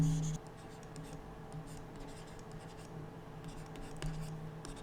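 Pen or pencil scratching on paper while working out a square root by the factorization method, a faint, steady stream of small strokes with no voice.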